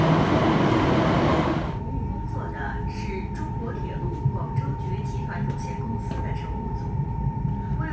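A loud rushing roar fades after a couple of seconds into a steady hum with a sustained tone as a high-speed Fuxinghao train pulls away from Shenzhen Station at night, with faint voices and clicks.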